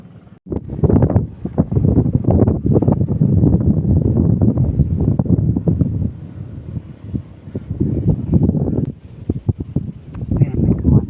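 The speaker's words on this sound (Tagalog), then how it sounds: "Lakas kaagad ng hangin." Strong wind buffets the microphone in a heavy, continuous roar with gusty swells, loud and close throughout.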